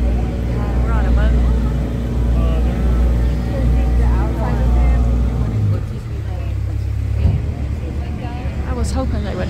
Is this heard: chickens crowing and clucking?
no